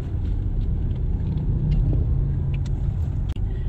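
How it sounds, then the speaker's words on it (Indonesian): Steady low rumble and hum inside a Neta V electric car while driving, a continuous road-and-motor drone with a few faint ticks, no talk. "dengungan EV-nya"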